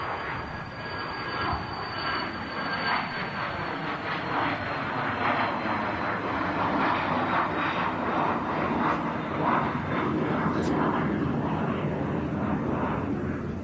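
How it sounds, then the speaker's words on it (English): An airplane takes off in a broad, steady roar of jet engines that swells slightly and holds for the whole stretch, fairly distant and even, with no voices. "Wow, that was a really quick takeoff."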